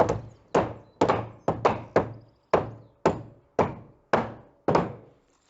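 A wooden summerhouse column is knocked down into place with about ten heavy, dull thunks in an uneven rhythm, close and distinct, each blow decaying quickly into quiet.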